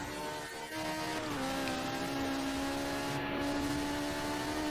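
A Peugeot 205 Forza Edition in Forza Horizon 4 gives a steady, loud engine drone that climbs slightly in pitch as it accelerates, heard alone without voices.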